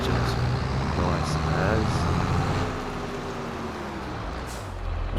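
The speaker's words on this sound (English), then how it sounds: "Very chunky lad because it has the big LSW wheel option, which I absolutely love. Engine sounds phenomenal." A Case IH tractor engine in Farming Simulator 22 rumbles steadily with rising and falling harmonic tones as it works, a loud continuous drone with occasional sharp hiss bursts, softening slightly toward the end.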